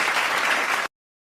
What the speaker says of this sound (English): Let me get my round of applause for you